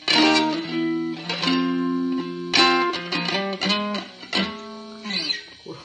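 Electric guitar through a fuzz pedal with the gain turned up high, played as loud, crunchy, saturated chords and notes with sustained ringing tones, close and alone without talk.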